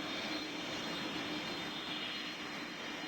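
Steady, loud broadband roar of an airplane engine at Greater Rockford airport, a continuous wash of noise with no talking.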